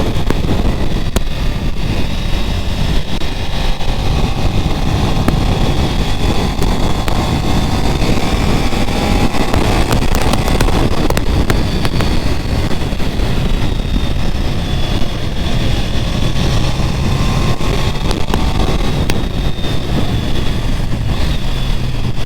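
A 1988 Honda VFR750 motorcycle engine on the move, a steady, loud engine drone mixed with heavy wind rush throughout, with no talking.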